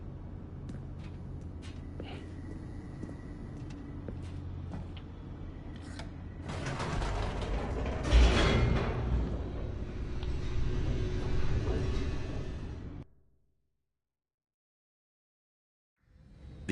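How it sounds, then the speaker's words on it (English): An elevator in The Stanley Parable descends: a steady mechanical rumble and creaking slide swell louder mid-way, then cut off abruptly into silence, with a faint click at the very end. "The elevator raced downward, plummeting towards an unknown fate."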